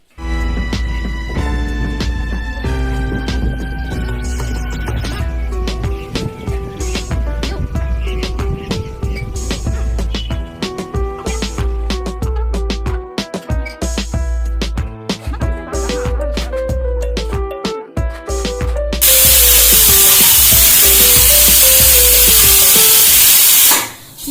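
A household pressure cooker on the stove whistles in one long, loud, continuous hiss of escaping steam, and music plays underneath it.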